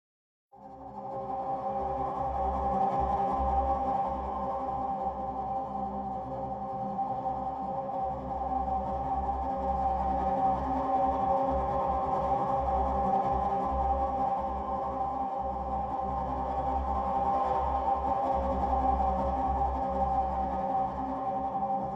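A steady, droning bowed cello tone picked up through a contact mic, with a dry, close, slightly buzzy quality, sustained evenly for the whole stretch with little variation.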